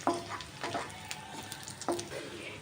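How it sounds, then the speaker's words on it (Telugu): Sliced green chillies fry in a pan of tomato rice with a steady close sizzle, broken by a few sharp stirring clinks and scrapes; nobody talks. "ఇప్పుడు సన్నగా కట్ చేసుకున్న పచ్చిమిర్చి కూడా వేసేసుకుందాం. ఇవన్నీ బాగా వేయించుకోవాలి."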